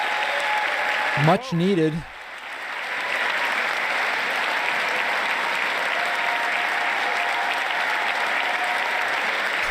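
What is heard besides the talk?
audience applauding and cheering at State of the Union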